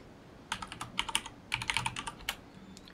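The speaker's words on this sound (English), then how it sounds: "let me type it in" Quick bursts of computer keyboard typing during a DayZ gaming session, close and fairly quiet, with two clusters of rapid clicking keystrokes and brief pauses.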